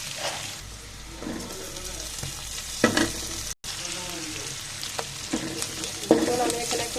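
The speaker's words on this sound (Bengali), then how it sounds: "ভালো করে এগুলো লাল করে ভেজে নেবো" Salted onions fry in a pan until brown, a continuous sizzle joined by intermittent scraping stirs from a spoon, close up, with a momentary cut in the middle.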